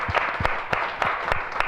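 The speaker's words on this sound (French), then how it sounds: "On acclame encore les pèlerins" An audience applauding pilgrims, steady dense clapping held at an even level throughout, with a few sharper individual claps standing out near the front.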